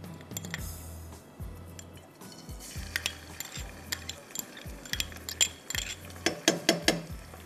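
Crushed garlic sizzles in frying oil while a spoon stirs and clinks against the pan, with repeated scraping strokes and metallic taps growing busier toward the end. No voices are present.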